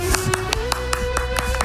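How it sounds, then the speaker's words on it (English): Several sharp claps land at an even, quick pace, a small burst of audience applause at a Dota 2 esports pre-show, over a steady tone. "You got your applause for GH"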